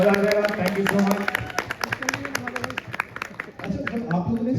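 Audience applause in a press-conference hall for the film Rahu Ketu, a dense burst of many hands clapping that thins into scattered claps, with voices talking over it.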